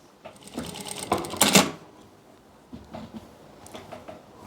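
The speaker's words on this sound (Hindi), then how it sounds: "पलटने के बाद पहले हम सिलाई यहाँ से लगा लेंगे" A sewing machine stitching a short kurti with a stand collar runs in short, close, rattling bursts that stop and start, the busiest burst falling near the middle, with a few quieter ticks afterward.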